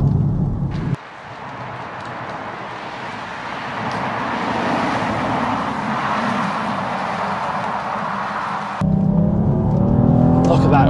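A BMW M440i accelerates hard through its gears, the engine note rising steadily under load with a sharp cut and change near the end before pulling again, loud and close inside the car.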